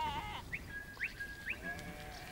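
Sheep on a farm being moved in by a working sheepdog for shearing, bleating in a few short, fairly distant calls spaced about half a second apart over a low outdoor background.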